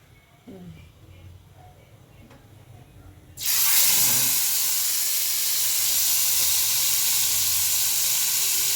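Food drops into hot oil in a kadai and erupts into a loud, steady sizzle that continues to the end, after a quiet stretch with faint talk and kitchen noises.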